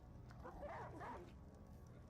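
A dog in a Western roleplay video game lets out a couple of faint, distant barks over a steady low background hum.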